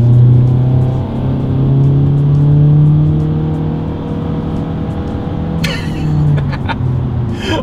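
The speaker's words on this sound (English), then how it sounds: "Let's put the acceleration here to the test with the Civic having full control, and let's see how quickly we can get this one here up to speed." A 2023 Honda Civic compact car accelerating from a rolling start, a steady engine drone rising in pitch through gear changes with rumbling road and wind noise, loud from inside the cabin, with a brief clicking near the end.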